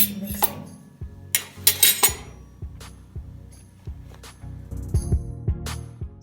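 A spoon and fork clink and tap against a bowl while mixing eggs, Greek style yogurt, honey and olive oil into a hair mask, irregular close taps and scrapes repeating throughout.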